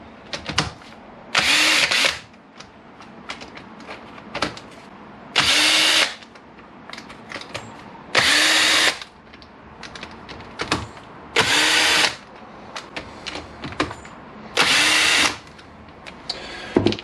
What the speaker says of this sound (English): what we'll do next is buzz out these six bolts, and we should be able to take the cam cover off